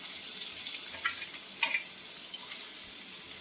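Chopped onion frying in hot oil in a home kitchen, a soft, fairly quiet sizzle broken by a few small crackles and pops, with no voices.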